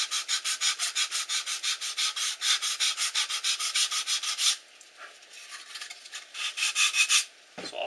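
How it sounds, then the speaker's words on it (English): Sandpaper rubs rhythmically along the leading edge of a ribbed foam wing in quick, even back-and-forth strokes, close up. The strokes pause, then resume briefly before a soft knock at the end. "Leading edge has been sanded lightly."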